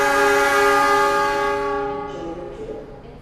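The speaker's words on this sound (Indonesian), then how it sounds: "Kereta Parahyangan diberangkatkan ya dari stasiun Gambir jam 7:30 tepat" The Parahyangan passenger train departs Gambir station in Jakarta, sounding a loud, sustained multi-tone horn nearby that fades into rumbling rail noise.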